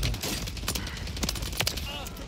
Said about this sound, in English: I just spawned in and got shot at